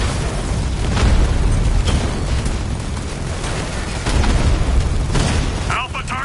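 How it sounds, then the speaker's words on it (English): A loud, sustained explosion rumbles as a Diamondback tank is destroyed in the video game Batman Arkham Knight, with dense booming bursts and radio-style voices speaking over it. "Armor breached. Batman just took out a Diamondback."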